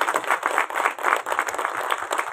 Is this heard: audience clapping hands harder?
yes